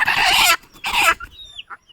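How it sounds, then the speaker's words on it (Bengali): Desi chickens for sale at a Bangladeshi poultry market give two loud bursts of squawking clucks, close by, with quieter rustling and a few faint chirps after them and no talk. "এই যে মুরগটা দেখতে পাচ্ছেন"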